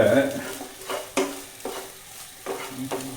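Okra and egg thoran stir-fried in a pan: a soft sizzle broken by several distinct scrapes and taps of a spoon against the pan at an uneven rhythm.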